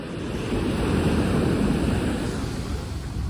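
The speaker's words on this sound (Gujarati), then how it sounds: "પવન એવો આવે છે" Steady seaside wind at Daman, a loud broadband rush blending with the wash of surf, continuous and close with no voices.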